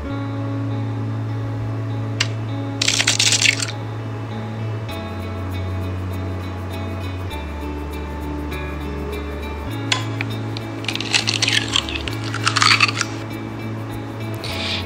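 Milk and two eggs are mixed in a bowl, with a few clinks and scrapes of utensil on bowl at two points over a steady low hum, close and moderately loud.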